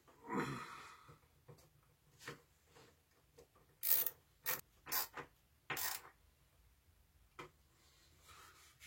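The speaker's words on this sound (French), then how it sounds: "Et j'y vais, la clé à cliquer." Ratchet wrench turning 45 mm screws into a workbench top in a workshop: sharp isolated clicks and rasping bursts, several clustered in the middle, separated by quiet gaps.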